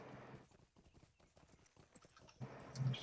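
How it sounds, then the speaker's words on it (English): Horse hooves clip-clop in a quick steady rhythm as a horse is ridden in a video game, fairly quiet, ending with a louder burst of ambient noise. "Just riding my little horse through these guys."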